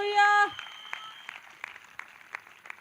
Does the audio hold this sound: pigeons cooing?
no